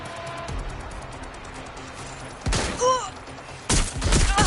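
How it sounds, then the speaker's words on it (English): Video-game firefight in Watch Dogs: Legion: a steady stream of gunfire sits under background game sound, then two loud bursts of shooting break out near the end, with a ringing, whistling effect between them. "Taking fire!"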